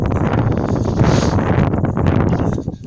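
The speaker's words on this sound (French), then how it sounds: "Il y a un peu trop de vent, que vous arriverez à entendre." Strong wind buffeting the microphone in a steady, loud roar with gusty swells, nothing else clearly audible.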